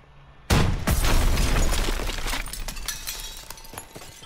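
A shoulder-fired launcher goes off with a back blast in a World War II combat video game, one sudden loud boom followed by several seconds of roaring, crackling debris and rumble that slowly fades, with no talk over it.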